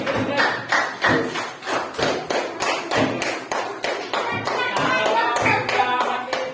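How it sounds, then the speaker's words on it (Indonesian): Students in a classroom session clap their hands together in a loud, steady burst of applause that runs throughout, with a rhythmic group beat near the microphone. "Tepuk tangan dulu untuk semua yang sudah melaksanakan kegiatan hari ini juga"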